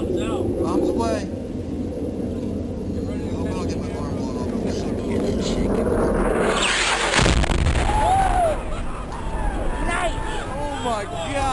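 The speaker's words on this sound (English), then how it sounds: "Andrew dropped the bomb on his first pass over the building. Bombs out. Bombs away." A 2,000-pound JDAM bomb dropped by an F-16 on a building goes off as a deep, heavy blast rising out of steady aircraft and wind noise, followed by a lingering rumble.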